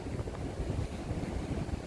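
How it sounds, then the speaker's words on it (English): Wind gusts steadily across an outdoor microphone during a drone flight with a DJI Mini 3 Pro on a windy day, producing a continuous low rumbling buffet with no talk. "It's windy."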